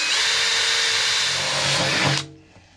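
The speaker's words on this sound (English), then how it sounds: "Again, drill bit with the tape on it." A power drill with a tape-marked bit bores through the metal body of a VW Crafter van, a loud close whine lasting about two seconds before it cuts off abruptly.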